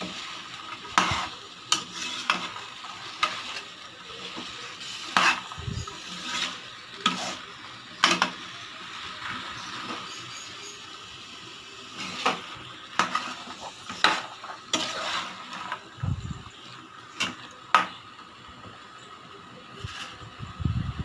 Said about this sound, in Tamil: சேர்த்துட்டு எல்லாத்தையும் நல்லா கலந்து விட்டுக்கலாங்க